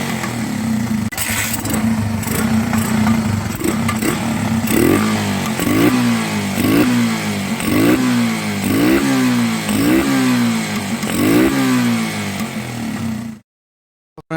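A Yamaha FZ motorcycle with a freshly fixed carburettor and throttle idles loudly up close, then revs in a regular series of rising and falling blips before cutting off abruptly.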